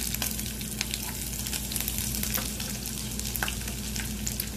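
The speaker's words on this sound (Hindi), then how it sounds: "हरी मिर्च अच्छे से सौते कर लेंगे।" Curry leaves, green chili, ginger and garlic sautéing in oil in a pan while cooking sabudana khichdi, a steady close sizzle and frying crackle with faint stirring, no voices.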